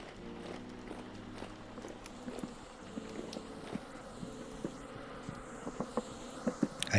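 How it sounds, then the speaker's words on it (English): Bees buzzing indoors in the Vintage Story video game, a steady insect drone from somewhere below, with soft footstep-like taps becoming louder toward the end. "I hear a bunch of bees downstairs."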